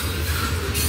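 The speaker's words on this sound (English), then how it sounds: "westbound loaded grain train on the Laredo subdivision." A westbound loaded grain train on the Laredo subdivision rolls past close by, a loud steady rumble of railcars and wheels on track with faint squeal, no voices.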